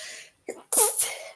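A single sharp sneeze-like burst from someone in a classroom lesson setting, loud and close, followed by a brief trailing breath, with a quieter voice fading out just before it.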